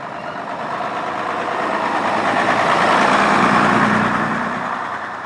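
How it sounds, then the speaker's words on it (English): A Plaxton-bodied Volvo B10M bus drives away homeward from a bus festival, its diesel engine a loud steady rumble that swells to a peak midway and then eases slightly as it moves off. "Something a little more modern now as this Plaxton-bodied Volvo B10M heads homeward."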